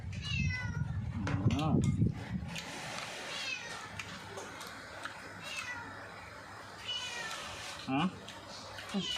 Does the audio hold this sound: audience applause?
no